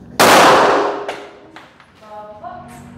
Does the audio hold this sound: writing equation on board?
no